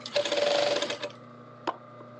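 A serger runs in one fast, loud burst of about a second while sewing the upper collar to the lower collar, then stops, followed by a single short stitch and quiet hum.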